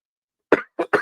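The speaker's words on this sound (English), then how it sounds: "Trying to get this cough to go away." A person with a lingering cough lets out three short, sharp coughs in quick succession, close and fairly loud, with nothing else around them.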